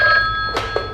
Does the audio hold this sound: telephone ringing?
yes